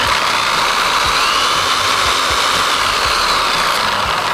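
A Cyclo Model 5-Pro dual-head polisher runs steadily on a paint surface while swirls are removed, a continuous close buzzing whir with no breaks and no talk.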